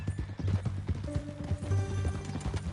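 Horse hooves clip-clop in a quick, steady rhythm in the Red Dead Redemption 2 video game, with a brief whinny partway through. The sound is moderately close and fairly quiet, with faint game music underneath.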